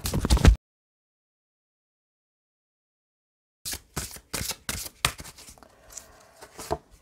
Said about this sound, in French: je vais prendre un autre jeu qui est très grand. Et je vais vous tirer deux cartes.